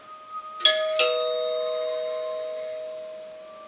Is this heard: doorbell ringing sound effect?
yes